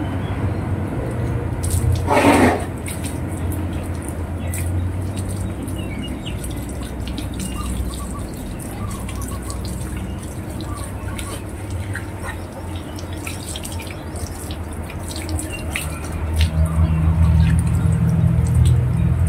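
Running water from a tap or hose rinses a dog named Cara during an outdoor bath, a steady wash of splashing and dripping with a brief louder spray near the start and a fuller rush toward the end.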